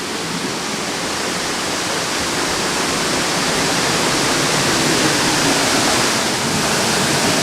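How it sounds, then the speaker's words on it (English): Loud, steady roar of a waterfall heard from right beneath the falls on a hiking trail in the North Carolina Highlands, a dense unbroken wash of falling water with no other sounds. "We're going under the falls."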